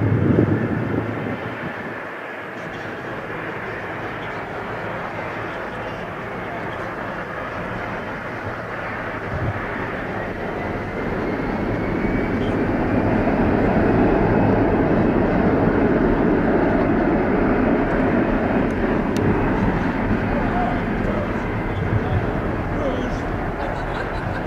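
Air Canada Rouge Boeing 767 taking off, a loud continuous jet engine roar that builds in the middle and holds steady, heard from nearby with a low rumble underneath.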